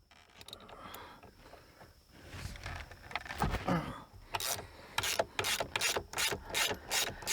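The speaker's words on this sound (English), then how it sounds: "Then your 17mm center bolt for your steering wheel." A ratchet loosens the 17mm center bolt on a Jaguar steering wheel, quiet shuffling followed by a run of rapid, close clicking bursts in a regular rhythm toward the end.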